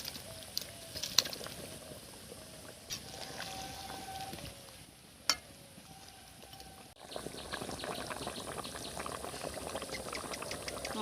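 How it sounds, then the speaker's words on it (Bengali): Koi fish curry with potatoes simmering in a covered pot on the stove, a soft continuous bubbling with a few faint clinks and a louder burst of boiling near the end, quiet and without speech. "মাছ ঝোলে 5 মিনিট ফুটে গেছে"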